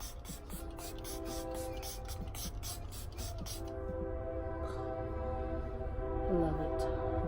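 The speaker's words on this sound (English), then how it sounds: "I'm going in with my setting spray" A Milani setting spray is pumped onto a face in a rapid series of short hissing spritzes, close and crisp, that stop abruptly and leave a steady low hum of room noise.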